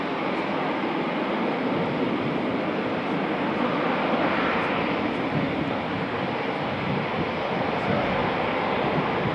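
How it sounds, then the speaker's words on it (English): An aircraft taking off at RAF Coningsby roars as a continuous, heavy, broadband jet rumble that holds steady and loud throughout, with no talking. "I thought there was going to be a power takeoff for a little bit, because it seemed to like really go for it"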